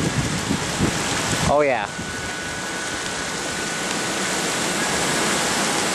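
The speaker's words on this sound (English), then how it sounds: "Look at that tree blowing pretty good. You can even hear it." Strong wind rushing through a tree on a blustery day by a backyard pool, a steady broadband roar throughout, with a brief voice partway through.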